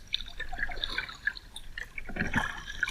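River water flows and trickles with bright bubbling drips and gurgles, steady and close, about 3 to 4 miles an hour after high water.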